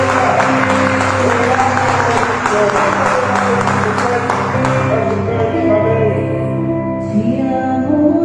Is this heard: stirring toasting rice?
no